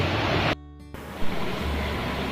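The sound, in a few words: water flowing in and out near a cave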